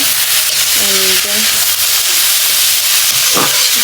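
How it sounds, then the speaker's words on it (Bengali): Radish greens cook in a pan with a steady, close sizzling hiss that runs the whole time, and faint voice fragments surface briefly beneath it. "এখন হচ্ছে মূলার শাকটা রান্না হচ্ছে"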